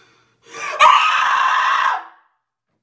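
A person screams loudly and steadily for over a second after getting messy while eating fried chicken legs, a fried hot dog and corn, preceded by a short gasp, with no talking.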